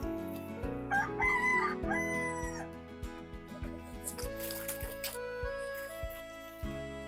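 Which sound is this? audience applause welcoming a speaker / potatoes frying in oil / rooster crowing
rooster crowing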